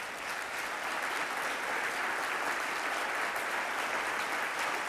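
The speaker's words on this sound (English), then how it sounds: "All of our mayors, please stand for a round of applause." Sustained applause from a large audience of mayors at the U.S. Conference of Mayors opening plenary, dense, even clapping filling the hall for the whole stretch without a break.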